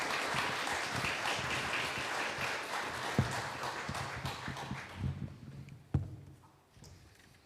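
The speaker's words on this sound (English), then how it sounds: "they deserve a round of applause for coming here" In a church, the congregation claps, a dense and even round of applause that thins out toward the end, leaving a few scattered claps and knocks.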